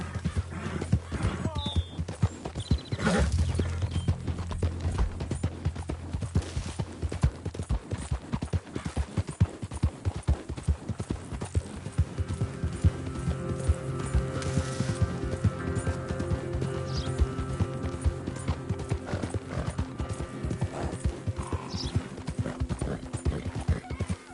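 Horse hooves in the Red Dead Redemption 2 video game, a steady rhythmic clip-clop running throughout with an occasional whinny and a rider's voice talking over it.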